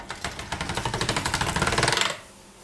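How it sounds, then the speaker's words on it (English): Polymer clay fed through a hand-cranked clay machine, a rapid even rattling of the rollers that runs steadily for about two seconds before stopping abruptly, close and loud. "then I'll roll that back through my machine"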